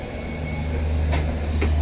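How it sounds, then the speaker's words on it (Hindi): Indian passenger train running on a curve near Delhi Junction, heard from on board as a loud steady rumble of rolling wheels with a couple of brief metallic squeals. "और देखिए अपनी ट्रेन क्या खूबसूरत कर्व ले रही है।"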